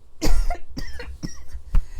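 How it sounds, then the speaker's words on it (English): A close, loud burst of coughing, several harsh coughs in quick succession with short raspy gaps between them. "Excuse me, I'm going to cough."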